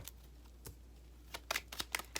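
Soft crisp riffling of tarot cards being shuffled, a few scattered flicks building into a quicker flurry of snaps near the end, quiet and close.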